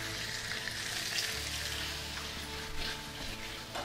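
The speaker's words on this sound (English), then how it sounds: "And we'll add our tilapia fillets." Tilapia fillets fry in hot oil in a pan, producing a steady, fairly quiet sizzle with light crackles over a low background hum, and no talking.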